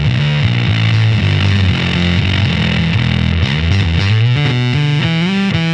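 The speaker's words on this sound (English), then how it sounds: "I'm going to roll the input gain down. So we actually get into more of like a overdrive territory there." Electric guitar through a Brass Fuzz germanium pedal with its input gain rolled down for overdrive, loud gritty chords and riffing notes played continuously with no talking.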